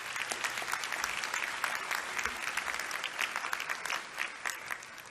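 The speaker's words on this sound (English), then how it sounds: "So why don't you give yourself a big hand of applause?" Graduation audience at a university commencement ceremony in a large hall, giving sustained, dense applause from many hands at a steady level throughout.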